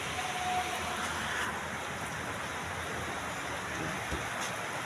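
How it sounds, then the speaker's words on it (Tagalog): Heavy rain pours steadily while travelers try to get home: a dense, unbroken wash of noise that stays at the same level throughout, with no talk standing out. "Ang lakas ang ulan."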